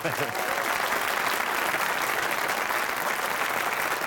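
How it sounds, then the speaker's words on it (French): An audience applauds circus-school stunt performers on a French television hidden-camera show, with a dense, continuous burst of clapping heard at even strength throughout. "Je crois qu'on peut les applaudir quand même"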